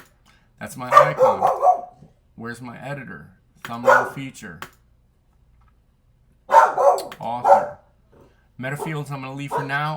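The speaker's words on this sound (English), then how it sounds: "Sorry about the dog barking in the background." A dog barks in short bursts in the background, at intervals across the clip, while someone talks steadily over it.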